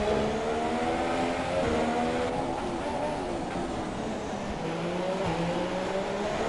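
A Sauber Formula 1 car's engine in the F1 2017 racing game at Monaco, a loud sustained high-revving whine with rising gear-change sweeps, heard continuously from onboard.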